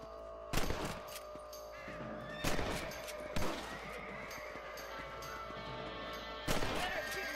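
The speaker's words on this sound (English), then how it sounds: "Better at shooting rabbits than outlaws, I see." Gunfire in the video game Red Dead Redemption as rabbits are shot around farm crops: a few sharp, separate shots over a steady background hum, with a horse whinnying nearby.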